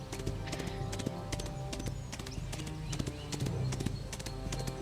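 Galloping horse hooves as a sound effect in a tabletop role-playing actual-play session, a rider's mount charging down a foe: rapid, steady hoofbeats drum continuously and fairly loud over a sustained musical backdrop, with no talking.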